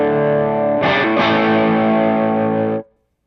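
Electric guitar with a distorted tone rings out, a held note joined by a bright, saturated chord that sustains for about two seconds before cutting off sharply, loud and alone.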